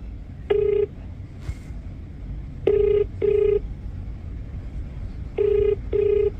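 A telephone keypad is dialed to call a scammer back, sending separate DTMF tone bursts in uneven groups: one, then two close together, then another pair, each clear and fairly loud over quiet background.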